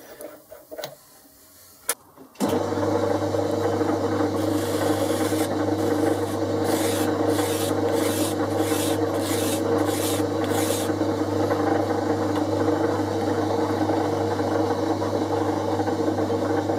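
Polishing an ER20 collet holder: after a brief quiet start, a steady machine drone sets in with a continuous rasping, rubbing texture and a faint rhythmic ticking, close and fairly loud.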